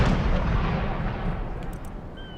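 Ship cannons in the naval game Imperial Splendour: a heavy, rumbling boom fills the start and slowly decays into a long low roar, loud and close with no talk over it.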